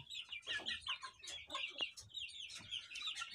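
Hens and roosters in a backyard coop cluck and chatter softly at fairly close range in steady overlapping calls.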